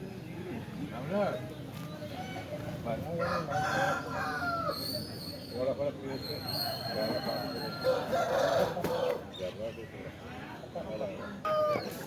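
A rooster crows at a busy Saturday country chicken market, its calls rising over steady nearby talk and crowd murmur throughout.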